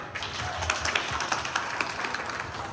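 Audience applause at a New Year friends and family night gathering in New York, a steady wash of many hands clapping with scattered sharper claps throughout, moderately loud and continuous with no talking over it.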